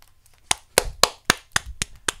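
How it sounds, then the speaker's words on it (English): Slow, evenly spaced hand claps, about eight sharp separate smacks roughly a quarter second apart, greet an inventor's introduction in a Steins;Gate comedy parody; the sparse claps sound like a small audience and stand alone against near silence. "Please welcome him with a big round of applause."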